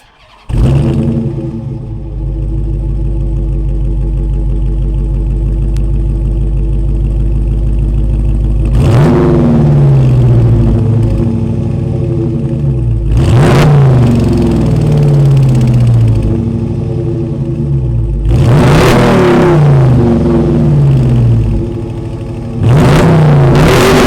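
A 5.7-liter Hemi V8 in a 2022 Dodge Challenger R/T idles with a deep burble, then revs hard three times, each throttle blip rising and falling back to a loud rumbling idle.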